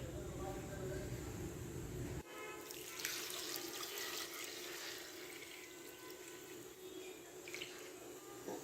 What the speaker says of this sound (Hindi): अब हम यहाँ पर यखनी ऐड करेंगे।